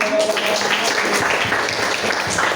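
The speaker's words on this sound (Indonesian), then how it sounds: "tepuk tangan" A classroom group applauds together, a dense, steady patter of clapping that fills the whole short stretch at close range, with a few voices mixed in.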